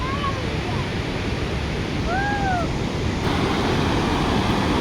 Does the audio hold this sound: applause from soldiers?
no